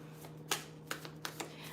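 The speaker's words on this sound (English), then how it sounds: "so I'm getting a good shuffle out of this" Soft, quick riffling of tarot cards being shuffled close by, a few short crisp bursts over a faint steady hum.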